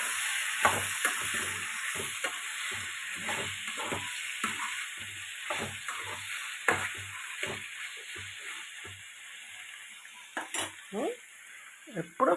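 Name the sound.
stirring bottle gourd tomato curry in a frying pan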